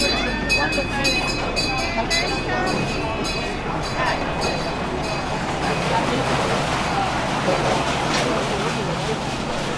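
Passenger train ride in the US, with a continuous rumble and rattle of the railcar and occasional clinks, while people talk nearby.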